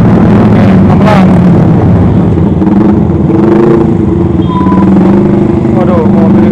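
Car passing close on a busy road in Padarincang, Serang, Banten, a loud engine drone with rising and falling pitch amid heavy traffic noise, with speech mixed in.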